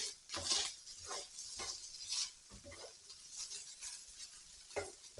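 Bacon crisps in a pan with a soft, quiet sizzle, broken by irregular scraping and light clinks of a utensil stirring and turning the strips, no talking.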